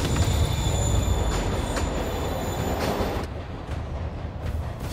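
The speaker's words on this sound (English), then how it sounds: "Train's moving. Lee's getting away." A moving train in the Marvel's Spider-Man Remastered video game rumbles steadily and loudly, with wheel squeal and metallic clatter over the rolling noise, easing slightly toward the end.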